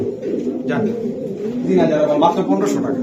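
Racing pigeons coo in soft, rolling bursts close by, mixed with a voice talking throughout.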